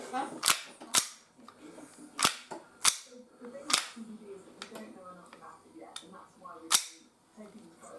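Sharp, close clicks and snaps come from a Glock 17 Gen 4 gas blowback BB gun being handled with its magazine removed, about eight distinct metallic cracks spaced irregularly, with no talking.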